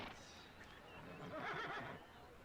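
A racehorse whinnies in a long, faint, wavering neigh heard under a muffled background with voices.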